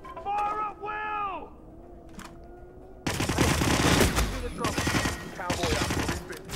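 Rapid bursts of gunfire in a shooter video game, loud close volleys and scattered shots after a stretch of game voices and whistling tones, with speech mixed in.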